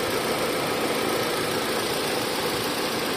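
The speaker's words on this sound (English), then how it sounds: "The engine is running smoothly." Renault Duster (Dacia) car engine idling steadily after its oxygen sensors were cleaned, a constant close mid-pitched hum with light mechanical vibration and no talk.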